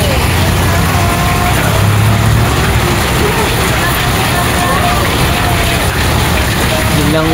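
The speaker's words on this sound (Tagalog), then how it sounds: "Bigla na lang umulan ng malakas." Heavy rain pours down steadily in a dense, loud wash of noise that continues throughout, with no breaks.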